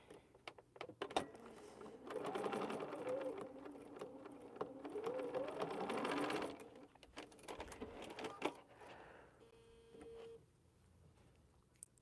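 A sewing machine stitches through a very thick quilt block seam, running steadily in two long bursts with a mechanical whir and rapid ticking, then slowing to scattered clicks, close and moderately quiet.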